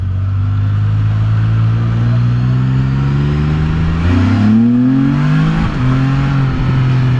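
A Can-Am Spyder F3-T engine revs up loudly during a ride, its tone climbing steadily before it drops at a gear shift and then pulls up again, with strong wind noise throughout.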